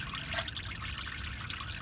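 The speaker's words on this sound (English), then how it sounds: "You see the fluid pouring out." Transmission fluid pours steadily out of a Dodge Grand Caravan during a fluid and filter change, a continuous close trickling splash with no voices over it.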